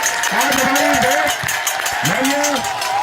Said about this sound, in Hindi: जोरदार तालियां आज हमारी देश